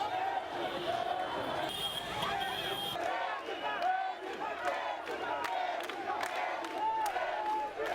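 A street crowd cheers and shouts in ovation as President Alpha Condé walks on foot to his residence at Villa Sili, with continuous loud, overlapping voices and whoops and occasional sharp bangs.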